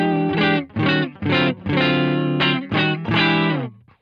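A Maybach Lester electric guitar plays through the clean channel of an amp with no reverb, giving a series of loud, sustained chords and notes in short phrases with small gaps between them.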